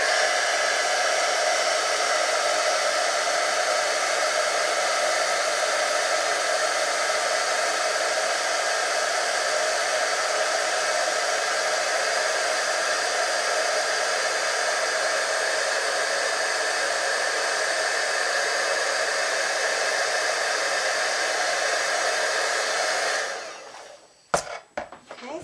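A heat gun blows steadily for about twenty-three seconds, a loud, even, close whoosh of hot air over embossing powder on a stamped card, then cuts off with a couple of small knocks.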